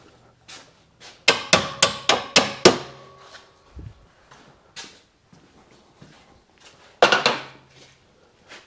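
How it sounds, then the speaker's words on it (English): A hammer taps a bolt through an engine mount while an engine goes into the frame of a Yamaha Twin Jet 90/100. A quick run of about six sharp metallic taps is followed by a pause, then a few more close strikes. "you gotta tap up on that to get the bolt on through"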